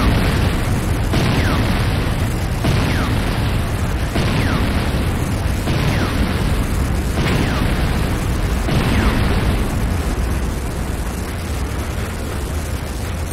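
Command & Conquer Renegade structure destruction, as a GDI weapons factory falls: a loud, continuous barrage of booming explosions, with fresh blasts hitting roughly every second over a constant roar of combat.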